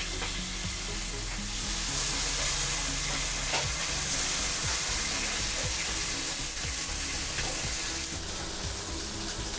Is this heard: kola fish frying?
yes